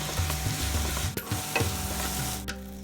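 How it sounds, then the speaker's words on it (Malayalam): Chopped tomatoes sauté with spice powders in a pan for chicken dum biryani, a continuous sizzle with a spatula scraping and stirring in repeated strokes, close and fairly loud, with no talking. "ഇനി മീഡിയം വലിപ്പമുള്ള 4 തക്കാളി അരിഞ്ഞതും കൂടി ചേർത്ത് വഴറ്റാം."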